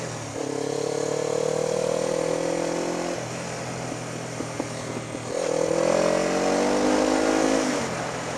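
A motorcycle engine runs close by and rises in pitch through two long revving pulls, separated by a brief dip to idle. The note is loud and steady with no voices.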